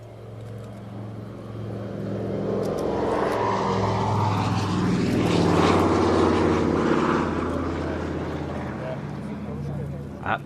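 An aircraft from South Africa passes by, a propeller and engine drone swelling to a peak near the middle and fading away, with people talking faintly underneath.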